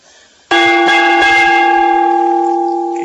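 A single loud gong strike rings out after a short quiet stretch, its shimmering metallic tone sustaining and slowly fading.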